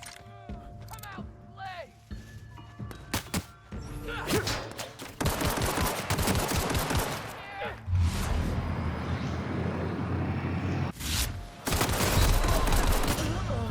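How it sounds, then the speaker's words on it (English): Shotgun blasts and other gunfire in the video game The Outer Worlds, a dense volley of sharp shots and booming thuds over game effects, loud and continuous, with a voice talking over parts of it. "Shotgun does not do that much damage."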